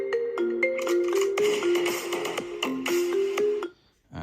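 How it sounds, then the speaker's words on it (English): An iPhone ringtone plays alone, a bright melodic sequence of sustained tones stepping up and down at a steady pace, fairly loud and close, then cutting off abruptly near the end. "And that ringtone will come up over here."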